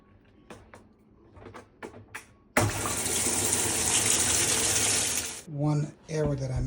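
Water being turned on to a Kenmore Whirlpool washing machine under repair, after a few clunks: a loud, steady rush of filling water for about three seconds, then it stops, followed by more handling sounds nearby.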